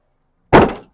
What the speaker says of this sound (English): All right, passenger door.